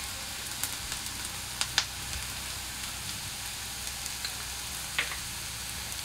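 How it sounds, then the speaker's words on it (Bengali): Onion fries in a pan with a steady soft sizzle and a few small crackles and pops, no voices present. "পেঁয়াজটা আমি একটু এক মিনিট ভেজে নেব।"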